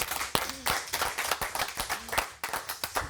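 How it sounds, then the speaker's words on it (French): In a radio studio during the season's last show, a few people clap with sparse, uneven, fairly close slaps that come and go, with a brief voice in between. "Tous les cas, on peut l'applaudir."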